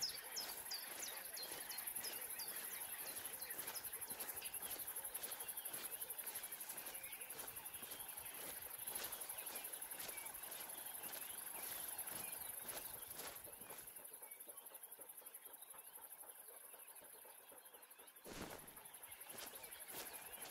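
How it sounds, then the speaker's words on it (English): Many wild birds, including doves and guinea fowl, in theHunter: Call of the Wild, a faint layered chorus of chirps and calls over insect buzz, with occasional louder clicks and soft background voice. "if you listen, you can hear loads of different birds. We've got the doves, there's guinea fowls in there"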